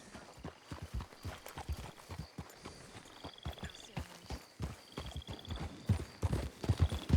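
Horse hooves clip-clopping in a western video game, a brisk close rhythm of distinct hoof strikes that keeps up throughout, with faint jingling tones over it.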